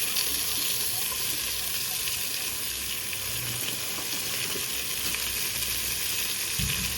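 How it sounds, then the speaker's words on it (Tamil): Onions fry in a pan, slowly browning, with a steady, dense sizzle and crackle holding at an even level throughout, close and unbroken. "நல்லா பொன்னிறமாக வர்ற அளவுக்கு வதக்கிக்கிடலாம்."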